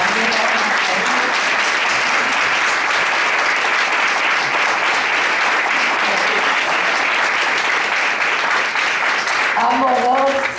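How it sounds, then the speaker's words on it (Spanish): Sustained crowd applause at a diabetes conference, loud and continuous, with a voice starting to speak over it near the end. "Y al doctor Luis, que también la vamos a aplaudir."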